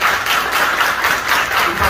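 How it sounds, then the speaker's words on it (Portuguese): Close, loud, dense applause fills a municipal council chamber during an ordinary session. The claps blur into a continuous rushing wash with no talk. "Então, eu queria pedir aplausos para eles aí."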